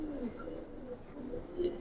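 A Giribaz pigeon of the old Babu line gives faint, low coos at close range, soft and intermittent, with no voices.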